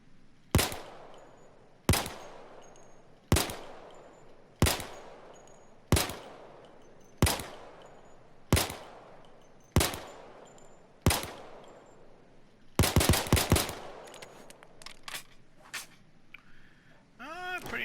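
An M9/Beretta 92 (Bernetti 9) pistol fires in Payday 2, nine evenly spaced sharp shots each followed by a short ringing decay, then a quick rattling cluster of reload-like clicks and clatter.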